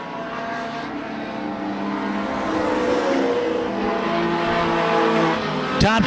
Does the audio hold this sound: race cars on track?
yes